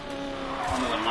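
Car drifting down a mountain road in a racing video game, tires squealing in one sustained, loud skid with steady engine noise underneath.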